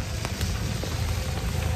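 Heavy rain falls outdoors at Largs on the Scottish coast, making a steady, dense hiss with soft patters throughout the short stretch. No one speaks over it.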